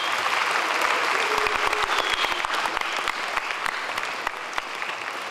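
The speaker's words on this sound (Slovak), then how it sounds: "Veľký potlesk." An audience at a cosplay show at Istrocon 2012 applauding, a loud sustained burst of many hands clapping that fades slightly toward the end.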